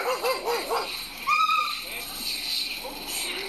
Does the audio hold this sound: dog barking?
yes